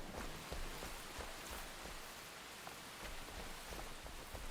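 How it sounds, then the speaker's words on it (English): Steady rain falls in the survival game Enshrouded, a dense continuous hiss with scattered drop patters, heard alone without any talking. "standing in the rain like a dum-dum"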